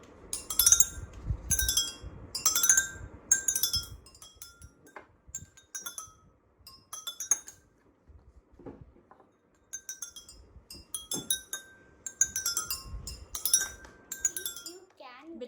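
Water-filled drinking glasses struck in turn like a xylophone, giving bright ringing clinks in quick runs with pauses between, a voice and other speech heard around the notes.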